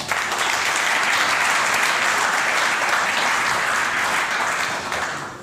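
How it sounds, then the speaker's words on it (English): Warm audience applause at a process-automation talk: a full, continuous wash of many people clapping at once, loud and even throughout, easing off slightly at the very end. "Please give him a warm applause."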